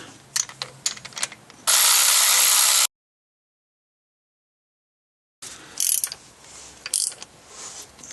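Ratchet tightening three 13 mm alternator pulley bolts into aluminum on a 2008 Dodge Avenger engine: rapid close clicking bursts, a loud steady hiss, a silent gap, then more clicking.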